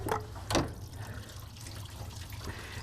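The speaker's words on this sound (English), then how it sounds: "We're expected to have some coolant come out." Coolant drains from a 2005 Aviator, Explorer or Mountaineer engine after the water pump bolts are removed, giving a continuous close, splashy trickle of liquid with a couple of louder gushes near the start.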